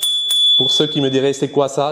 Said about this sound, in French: Non, ça c'est une sonnette.